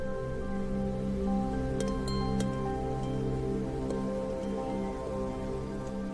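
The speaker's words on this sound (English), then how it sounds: "you hear in the distance the sound of flowing water from a fountain" Flowing water from a garden fountain makes a steady, even wash of splashing and trickling, soft and constant, with a few faint drips standing out.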